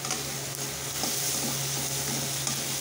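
Four dried red chillies fry in hot oil, giving a close, even, continuous sizzle with light stirring throughout.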